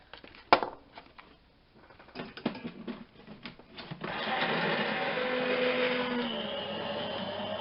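A die-cutting machine runs through card taped down for a circle pop-out, starting with scattered clicks and handling knocks, then a steady loud mechanical whirr and grinding hum that holds for several seconds, close by.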